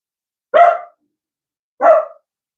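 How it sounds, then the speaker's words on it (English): A dog named Yoda barks twice, two short loud close barks spaced over a second apart with silence between them. "all I hear is dog barking"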